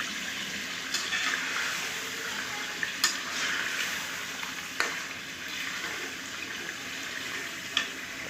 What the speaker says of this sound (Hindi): दही डाल के हम इसे फिर भूनेंगे।